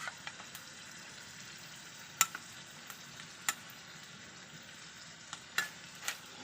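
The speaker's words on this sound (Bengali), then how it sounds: "মাছের ডিম ভাজার জন্য প্রথমে টমেটো পেঁয়াজ সব কিছু দিয়ে এভাবে ভালোভাবে ভেজে নিতে হবে" Fish roe with tomato and onion sizzles quietly in a frying pan while a utensil scrapes and clicks against it now and then during stirring.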